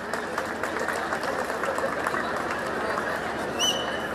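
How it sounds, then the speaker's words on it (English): Steady applause from a crowd at a student prize distribution, a dense wash of clapping that holds for several seconds, with faint chatter mixed in. "Give them a big round of applause."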